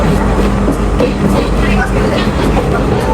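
Loud, steady rumble of a Sri Lankan passenger train picking up speed between Colombo and Kandy, continuous low roar with faint rhythmic clatter throughout.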